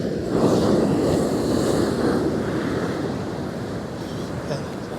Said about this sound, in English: Look at them big waves coming